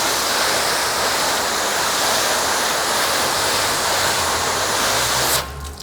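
Strong water spray from a hose blasting onto waxed car paint coated with Turtle Wax Seal N Shine and Exoforma, a loud continuous broadband rush that holds steady for over five seconds before cutting off abruptly near the end.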